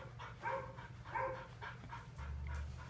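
Dog at a pet hotel whimpering in a few high, drawn-out cries that come in repeated bursts over a steady low hum, fairly close.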